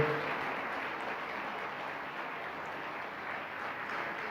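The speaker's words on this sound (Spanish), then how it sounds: "Pero dale más fuerte el aplauso a la fuente de toda buena dádiva, a nuestro Salvador." A church congregation applauds at a Spanish-language evangelical conference, a steady, faint wash of clapping heard from a distance that holds evenly throughout with no voices on top.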